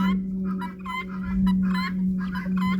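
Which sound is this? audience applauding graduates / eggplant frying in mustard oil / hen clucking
hen clucking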